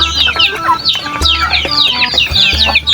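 Flock of chickens clucking at feeding time, close and busy, with overlapping short clucks and squawks in a constant restless chatter and no pauses.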